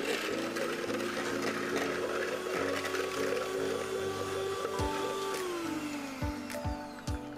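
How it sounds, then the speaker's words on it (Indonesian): An electric hand mixer whirs steadily at close range as it beats souffle pancake batter with sugar, a continuous motor drone with its pitch shifting slightly near the end and a few knocks against the bowl. "Kita mixer lagi."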